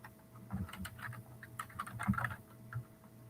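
Typing on a computer keyboard, with irregular quiet key clicks in short bursts, close but soft, and no talking.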